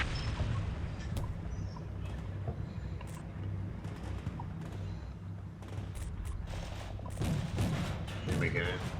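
Dense artillery and gunfire from the Combat Mission Shock Force 2 war game, a continuous loud barrage with sharp impacts and crackling bursts throughout, strongest toward the end.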